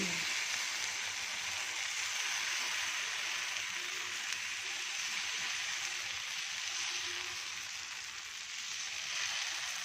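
Dosa batter sizzles on a hot tawa greased with a little oil, a steady bright hiss that stays loud and close with no voices over it.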